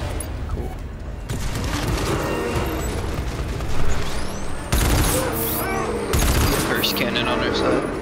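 Cannon fire in the co-op shooter GTFO rings out among dense rapid gunfire and heavy booms during a loud battle, with people talking over the din.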